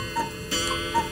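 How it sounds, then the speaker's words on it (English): A metronome ticks at a strict, even tempo with its swinging pendulum, three or so crisp clicks close up and alone. "This machine is called a metronome and it keeps very strict time for me."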